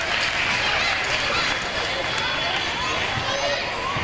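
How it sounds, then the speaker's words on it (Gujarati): An audience at a school annual function applauding to welcome guests, a loud, steady roar of clapping and crowd noise that fills the whole stretch without pause. "તો આ સૌનો ફરીથી એકવાર જોરદાર તાળીઓથી અમારો શાળા પરિવાર આપનું અભિવાદન"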